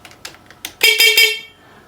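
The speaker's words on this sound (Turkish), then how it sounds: "Kornamız buradan." An Onvo electric scooter's replaced horn gives three short loud beeps in quick succession, preceded by a few light button clicks, heard close up.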